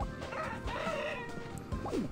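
A chicken in the mobile video game Squad Busters clucks and crows over a busy, dense game soundtrack, the bird calls fairly loud and close.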